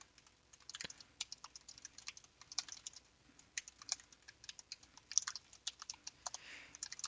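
Code is typed on a computer keyboard in quick, irregular bursts of soft, close key clicks, with brief pauses between flurries and no voice over them.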